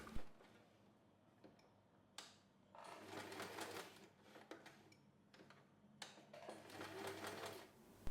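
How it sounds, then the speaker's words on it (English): Sewing machine stitching curves on a small snap wallet keychain, with bursts of running broken by short pauses and ticking clicks as the presser foot is adjusted, fairly quiet and close. "If you're sewing curves, feel free to lift your presser foot often to adjust the fabric for smoother stitches."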